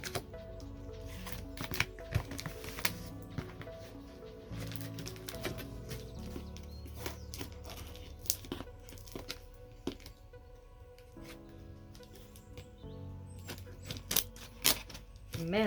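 A heavily taped box for a Somic GS510 wireless headset is pried open, with continuous close crackling, ripping and cardboard rustling and scattered sharp snaps throughout.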